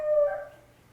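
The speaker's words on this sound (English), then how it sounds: "My dog." A dog gives a single short whining howl, close and fairly loud, fading out within a second with no other sounds.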